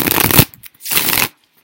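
Tarot cards riffle-shuffled and split in two quick bursts, near and crisp, the first about half a second long, a short pause with light handling, then a second longer flurry before silence.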